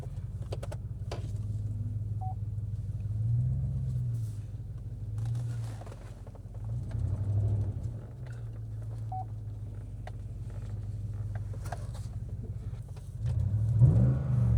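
A GMC Yukon engine idles on year-old fuel, a low steady rumble with a few revs swelling and easing, and a couple of short beeps from inside the cabin.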